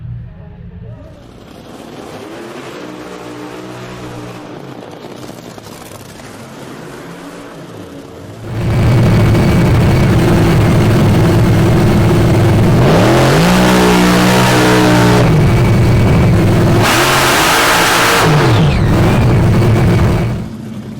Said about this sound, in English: Semifinals, Indy, let's go. Racing Brittany